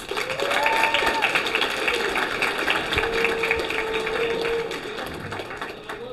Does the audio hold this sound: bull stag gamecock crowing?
no